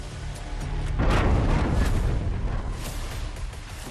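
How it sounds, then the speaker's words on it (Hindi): Explosives strapped to concrete posts and walls detonate to blow apart a border fence, producing one heavy, close boom about a second in that rolls into a long rumbling decay. "इसी के साथ धमाका होता है और तारबंदी के टुकड़े टुकड़े हवा में बिखर जाते हैं।"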